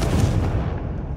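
Hogwarts Legacy's Confringo blasting curse lands as a short, dense rumbling burst with broad crackle, loud and close, trailing off within about a second.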